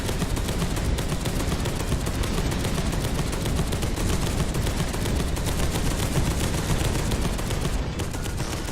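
Bolter gunfire in Space Hulk: Deathwing, a relentless, loud stream of rapid automatic shots and explosive impacts that never lets up, with no voices over it.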